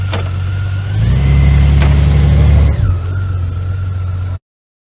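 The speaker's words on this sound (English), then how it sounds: "get it in gear and ride away." A 2018 Honda Goldwing motorcycle engine idles steadily, then revs up louder for a couple of seconds as it pulls away off its centre stand, before settling back to a lower steady hum until it cuts off.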